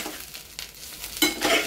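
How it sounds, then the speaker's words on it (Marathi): Chickpea greens are sautéed in a hot tempering in a pan. Close, intermittent stirring strokes scrape through a soft sizzle, with a louder stir near the end. "हिला अशी छान परतून घ्यायची"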